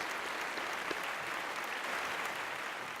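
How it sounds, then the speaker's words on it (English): Awards ceremony audience giving a round of applause, steady even clapping from a crowd held at a constant moderate level throughout. "Big round of applause for that."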